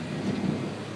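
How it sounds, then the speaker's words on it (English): Thunder rumbles during a summer storm, a loud, continuous low roll filling the whole short moment with no voices. "Hear that thunder?"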